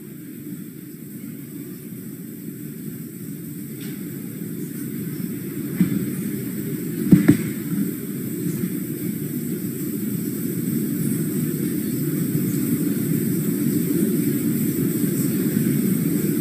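Falcon rocket engines roar during a Dragon spacecraft launch to the International Space Station, a steady broadband rumble with a few brief crackling bursts midway.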